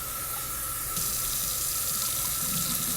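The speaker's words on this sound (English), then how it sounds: "I'm going to drain the water off again." Tap water runs steadily into a sink while fresh mushrooms are washed to remove ground dirt and the water is drained off, a close, continuous splashing rush that swells slightly louder partway through.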